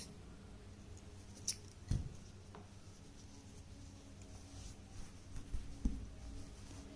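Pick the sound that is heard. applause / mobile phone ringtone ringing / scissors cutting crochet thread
scissors cutting crochet thread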